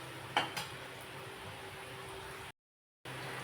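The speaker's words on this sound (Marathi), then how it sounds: "गॅस कमी करून छान तळून द्यायचे" Gram dal bhaji fritters frying in oil over low heat, a faint steady sizzle with a brief clatter of a utensil early on, then a short gap of silence.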